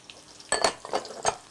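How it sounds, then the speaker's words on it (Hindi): Cumin seeds hit hot oil for an eggplant tempering, giving a few sharp, close sizzling bursts over a low, steady frying hiss, with no talking. "तड़का तैयार कर लेते हैं हम, जो हमने बैंगन का तड़का बनाना है।"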